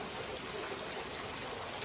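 Holy spring water dripping and trickling down a rough, chunky rock face at Gunung Kawi in Bali, a steady close wash of running water with no voices.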